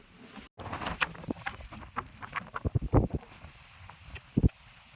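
Strong wind gusting across the exposed top of Harihar fort, a broad rushing roar with repeated buffeting bursts close to the microphone, surging and easing across the moment.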